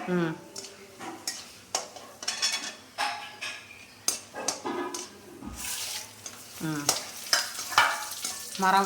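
Dried red chilies frying in a pan for pulikaychal, with loud crackling sizzle and repeated sharp clinks of a spoon stirring against the metal, close and busy.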